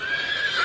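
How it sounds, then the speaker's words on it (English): A toy animal puzzle plays a short, bright electronic horse neigh, a single shrill whinny heard alone and fairly close. "neigh, neigh, neigh. Yes, open, and it was a horse."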